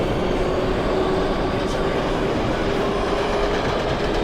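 A train running in the OpenBVE train simulator game, giving a loud continuous rail rumble with a faint steady whine and no talking.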